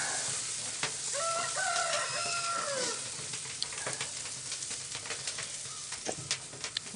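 Steady crackling sizzle of a ham steak on a hot grill, with a rooster crowing in the background partway through.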